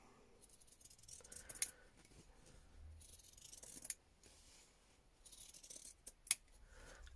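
Scissors snip through fabric for a textile art junk journal cover: a few sharp, distinct cuts spaced several seconds apart, close and clear over soft rustling handling noise.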